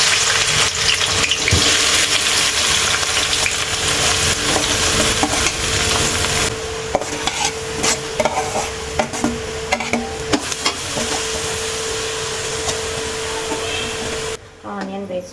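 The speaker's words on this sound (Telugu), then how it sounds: "ఆయిల్ అయితే వేడయింది ఇప్పుడు ఆనియన్ వేసుకుందాము స్టవ్ చిన్నగా పెట్టుకొని ఆనియన్ అయితే వేసుకుందాం" Onions frying in hot oil, a loud steady sizzle close up with stirring clatter, easing to a lower hiss toward the end.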